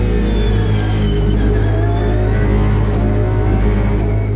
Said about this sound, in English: And that emerald green Porsche reaching the end of the Mistral straight now